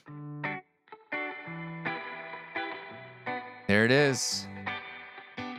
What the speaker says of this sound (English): let's add that spring reverb that we have in that amped guitar track